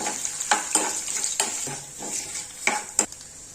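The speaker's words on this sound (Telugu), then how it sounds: "ఎండుమిర్చి కూడా వేసుకొని బాగా కలుపుకోవాలి." Dried red chillies are stirred in hot tempering oil for a gongura pickle, with a quiet sizzle under repeated scraping and clinking strokes of a spoon against the metal pan.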